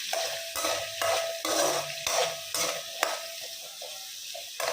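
Curry leaves sauté in a pan for spicy mutton trotter curry, with a rhythmic series of about eight stirring scrapes over a constant sizzle, close and fairly loud.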